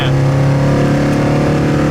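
A 1966 Chevelle restomod accelerating, its engine giving a steady loud low drone with strong harmonics heard close from inside the car, sustained throughout without talk.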